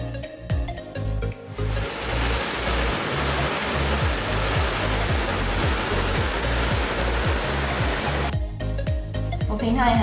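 Flowing water outdoors, a steady broadband rush like a stream or small waterfall, loud and continuous for most of the stretch, framed by brief background music at the start and end.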